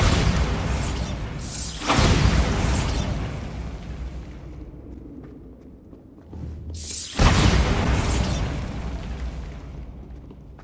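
Two heavy magical explosions from the Bombarda spell in Hogwarts Legacy, each a loud sudden boom followed by a long rumbling, crackling decay, the second arriving about five seconds after the first.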